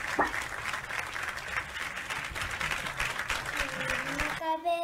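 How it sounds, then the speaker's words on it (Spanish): Audience applause fills a virtual school talent show with a steady broadband clatter throughout, ending with a brief burst of tonal music. "Fuerte el aplauso."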